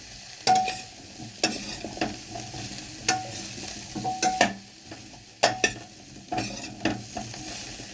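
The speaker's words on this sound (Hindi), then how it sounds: "इसको हमें अच्छे से मिलाना है ताकि ये हल्दी और जो तेल है वो पूरी गोभी में हर तरफ से बराबर से लग जाए।" Cauliflower frying in oil with turmeric, fenugreek and ginger being stirred in a pan: sharp, irregular spatula scrapes and clacks over a soft, steady sizzle, close up.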